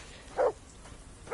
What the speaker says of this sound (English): Lord knows how I shut the dog up.